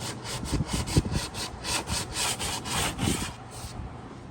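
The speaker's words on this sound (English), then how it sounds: "So we got the fairing compound on here. We started sanding it." Rhythmic back-and-forth hand sanding of fairing compound on sailboat window seats, a close, rasping stroke repeated about twice per second, alone without talk.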